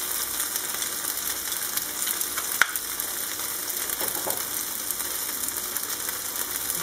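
Peeled garlic sizzles in a hot pan alongside pork chops, a steady close crackle of frying with a brief sharp clink partway through and softer scraping after.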